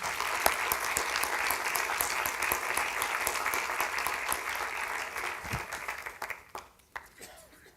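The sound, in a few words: audience applause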